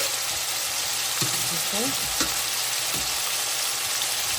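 Cooked beans sizzle and fry in a hot pan with a steady hiss and a few stirring scrapes, while someone speaks briefly.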